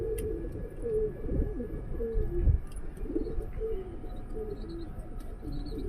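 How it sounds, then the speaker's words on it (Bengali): Bura breed pigeons coo softly and repeatedly in a low, throaty rhythm, fairly close, with faint background noise and no talk. "এটা হচ্ছে বুড়া জাতের অরিজিনাল বুড়া জাতের কবুতর"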